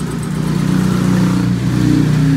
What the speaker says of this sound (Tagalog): Aandar, pero pag nirevolution mo, mamamatay.